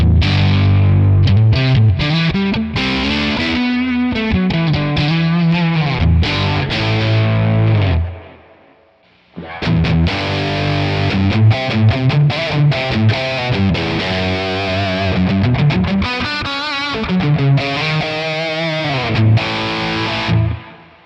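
Heavily distorted electric guitar through a Nano Cortex plays a loud, sustained riff with a thick, somewhat muddy low end, breaking briefly near the middle before resuming.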